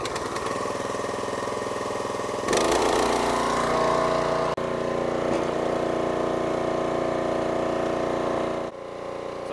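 Log splitter engine running steady with its hydraulic pump held in stage 1, a continuous droning hum that rises in load partway through, with a couple of brief clunks.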